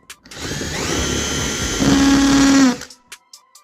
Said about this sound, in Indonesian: kita punya bor baru